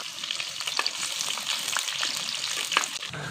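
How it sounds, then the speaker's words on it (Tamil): Chopped onions fry in oil with mustard seeds, a close busy sizzle with popping crackles and the scrape of stirring running through the whole stretch. "வெங்காயம் நல்லா பொரிஞ்சு நுர அடங்கணும்"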